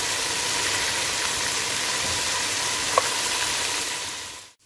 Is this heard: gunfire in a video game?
no